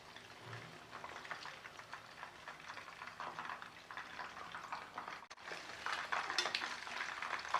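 Chicken 65 leg pieces deep frying in hot oil, roadside-stall style, give a steady, dense crackling sizzle that stays continuous and grows slightly louder toward the end, with no voices.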